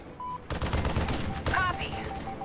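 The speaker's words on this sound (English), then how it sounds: "Take the shot, Grim." Gunfire in the stealth action game Splinter Cell Blacklist: a sudden loud burst of rapid shots and impacts starts abruptly and continues in a dense cluster, with a second sharp report and brief chirping effects following.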